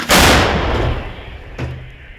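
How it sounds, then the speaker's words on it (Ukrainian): A single deep, heavy boom of an FH-70 howitzer firing, loud and close, rolling away in a long decay with a fainter thud shortly after. "Постріл."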